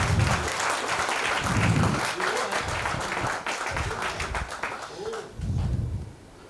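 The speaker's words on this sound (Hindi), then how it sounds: "आज जोर से तालियां बजनी चाहिए।" Applause from an audience at a business talk, a dense wash of clapping that swells and fades in waves, with low murmuring voices and a few bird-like coos underneath.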